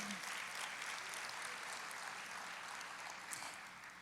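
Congregation applauding in a church, a steady dense wash of clapping that fills the whole stretch, moderately distant and fading slightly toward the end.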